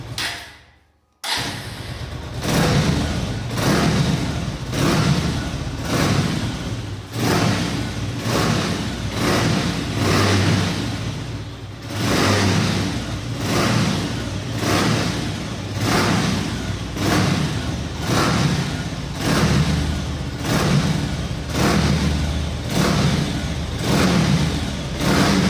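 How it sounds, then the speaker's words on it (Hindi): A Bajaj Avenger 220 touring motorcycle idles and revs, its exhaust note a loud, continuous throb that swells and falls with repeated throttle blips, heard close up with no talking. "okay, so that was my exhaust note"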